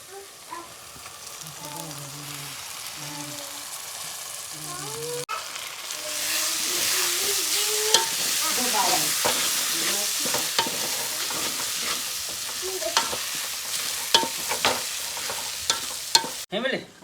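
Urad dal hits hot spiced oil and erupts into a loud, close sizzle, with scraping stirring strokes through the crackle; a voice hums or speaks briefly before the dal goes in.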